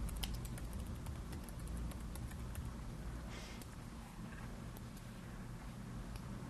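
Keystrokes on a computer keyboard, a steady stream of soft clicks at a close distance, set against a constant low background hum, with no talking.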